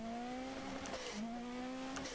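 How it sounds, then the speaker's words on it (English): Rallycross car engine in Dirt Rally 2.0, a steady high-pitched drone that dips briefly near the middle as it shifts and then climbs again, loud and continuous with no talk over it. "Listen to the sound of this engine, they're completely crazy monsters, these kind of cars."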